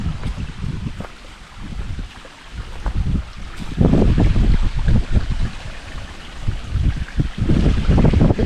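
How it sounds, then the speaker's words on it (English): Rushing water at Hedges Pour Off waterfall on the Buffalo River in the Ozarks, a steady broadband roar heard from near the top of the falls, swelling louder midway with gusts of wind buffeting the microphone. "The top of the waterfall."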